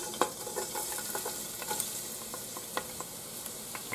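Three garlic cloves hitting hot olive oil, a steady crackling sizzle with scattered spatters and stirring clicks running throughout, fairly close, with no talk.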